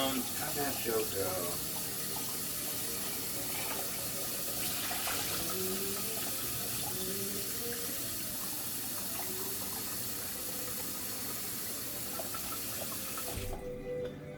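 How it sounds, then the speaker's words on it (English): Running tap water splashes into a sink as something is rinsed out beneath it, a soft steady stream that keeps going for a long stretch and then cuts off abruptly near the end. "let me rinse this out and get some water boiling"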